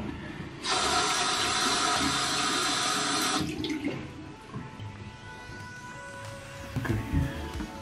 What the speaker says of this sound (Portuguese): Agora passo por água.